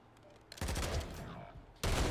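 Loud shotgun blasts in Call of Duty: Modern Warfare 3 gameplay, a broadband burst with a trailing rumble followed by another sharp shot near the end, with a faint voice in the background.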